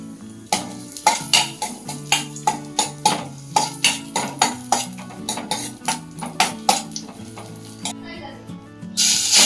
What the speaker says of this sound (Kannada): ಬಾಣಲಿಗೆ ಸ್ವಲ್ಪ ತುಪ್ಪ ಹಾಕಿ, ತುಪ್ಪ ಕಾಯ್ದ ನಂತರ ದ್ರಾಕ್ಷಿ ಗೋಡಂಬಿ ಹಾಕಿ ರೋಸ್ಟ್ ಮಾಡ್ಕೊಳ್ಳಿ